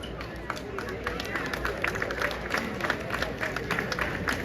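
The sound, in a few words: audience applause at steel orchestra award ceremony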